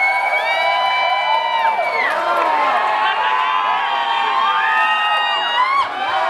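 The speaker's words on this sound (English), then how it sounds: "Let's give our four contestants a big round of applause" A bar crowd at a drag comedy show cheers, whoops and shouts loudly for four contestants, a dense continuous roar of voices with high yells rising and falling and little distinct clapping.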